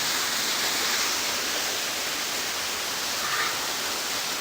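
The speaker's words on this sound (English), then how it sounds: "waterfall." A rainforest waterfall rendered as a constant broad hiss of falling water, steady and even from start to finish with no other sounds standing out.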